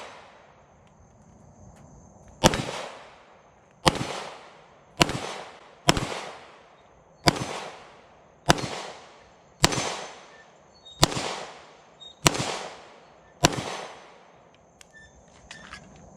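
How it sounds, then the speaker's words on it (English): Ruger 57 pistol fired at steel targets outdoors, eleven loud sharp shots spaced roughly a second apart, each with a ringing metallic tail and echo. "So let's shoot some of the steel with it and see how that goes."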